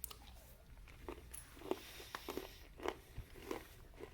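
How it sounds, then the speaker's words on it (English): Someone chewing Army ration trail mix of almonds, raisins and pan-coated chocolate discs: faint close-up crunches and bites at an irregular pace, several distinct crunchy bursts over a quiet background, no talking. "Let's chew a little of this before I eat anything else."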